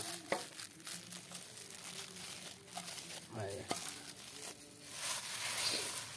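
Jhal muri, spiced puffed rice, is tossed with chopped cucumber and tomato, making faint, close crinkly rustles and soft crunching in short bursts, with quiet voices now and then.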